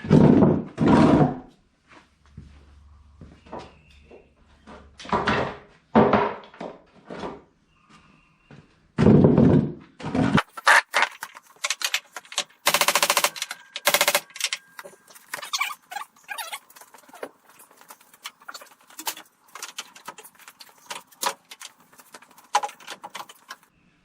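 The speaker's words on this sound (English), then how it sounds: "So let's get to hammering." Loud metallic bangs and thunks come in irregular bursts as a rolled-over car's hood is hammered back into shape up close, then a clatter of quicker, lighter knocks and rattles.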